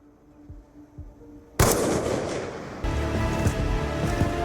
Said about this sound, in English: Woods, who you play as, aims and takes the shot, which he was told to do by Hudson.